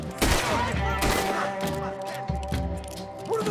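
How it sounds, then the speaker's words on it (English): Gunfire in the video game Red Dead Redemption 2, a dense run of sharp overlapping shots and booming reports, loud and close, with a few voices mixed in. "What are those guns?"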